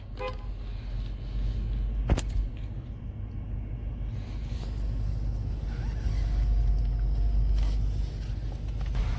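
A single short car horn toot sounds near a tea stall in Doha, Qatar, over a steady low rumble of a car and outdoor ambience.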